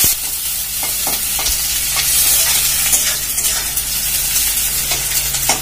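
Onions sizzle loudly and steadily in a hot pan outdoors in a village kitchen, with occasional stirring scrapes over the constant frying hiss.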